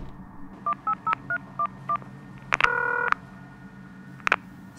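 A telephone being dialed: a quick run of six short keypad tones, then a longer tone and a few brief beeps, clear and close against quiet room noise.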